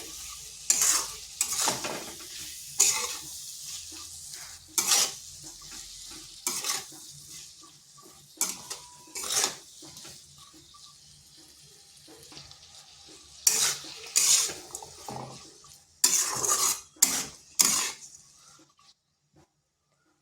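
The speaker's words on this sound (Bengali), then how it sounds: "এরপর আলুটা ভালোভাবে এই মশলার সাথে কষে নিতে হবে।" Cubed potatoes frying with salt and spices in a pan, stirred repeatedly so a utensil scrapes and clatters in quick bursts over a steady soft sizzle, close and fairly quiet, with no voices.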